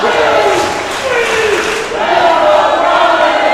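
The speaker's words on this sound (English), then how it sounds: "Pro Nation cheering for Promise Braxton." A loud wrestling crowd cheers and shouts for a returning wrestler. The roar swells and stays dense throughout, with a brief dip in the middle before it picks up again.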